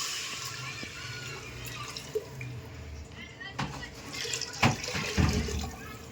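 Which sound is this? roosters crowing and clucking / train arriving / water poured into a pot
water poured into a pot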